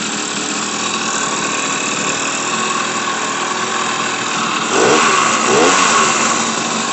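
A small two-stroke engine on a PedalChopper Red Baron motorized bicycle, fitted with a crankshaft-driven charging system, runs steadily at idle with a buzzing drone, then briefly revs up twice near the end.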